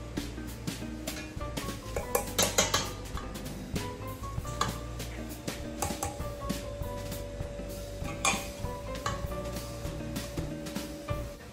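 Whisking cookie dough batter with egg yolk and extract in a bowl for chewy chocolate chip cookies, giving steady clinking and scraping against the bowl, with brighter clatters now and then and a low hum beneath, no talking.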